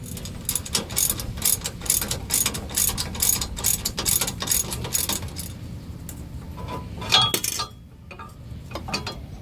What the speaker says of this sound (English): I was able to get the nut off at the top of the bolt, but I did end up using vice grips instead of the 16mm wrench